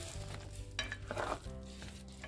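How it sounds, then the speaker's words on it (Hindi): Spinach being stir-fried in a kadhai: quiet, close sizzling with a few scraping stirs of a spoon against the pan over a low steady hum. "हम इसकी अच्छे से भुनाई करेंगे।"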